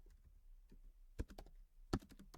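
Code is typed on a computer keyboard in a quiet room: scattered soft key taps, then two sharp louder strikes, close by and alone.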